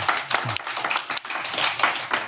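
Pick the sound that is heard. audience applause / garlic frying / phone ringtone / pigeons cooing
audience applause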